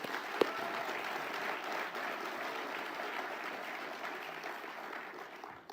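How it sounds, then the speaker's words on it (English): Steady audience applause fills a civic hall after a mayor's State of the City address in Little Rock, honoring city employees; dense, continuous clapping holds evenly for several seconds before easing at the end. "Let's give our employees a round of applause."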